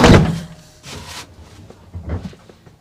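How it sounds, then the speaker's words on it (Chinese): The door of a custom-built camper van swings shut with a solid thunk up front, followed by quieter muffled knocks and rattles. "我把这个门关一下"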